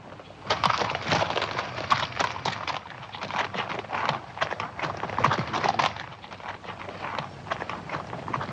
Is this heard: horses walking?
yes